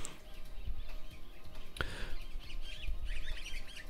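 Birds chirp in the background behind Overwatch gameplay, scattered short tweets and calls of moderate loudness, with one sharp call standing out and a cluster of chirps toward the end.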